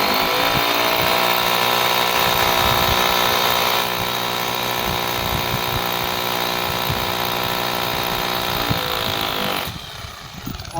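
A power drill bores a hole into a brick wall while a dish TV is being installed, a loud steady high whine held close for most of the clip before it winds down and stops near the end.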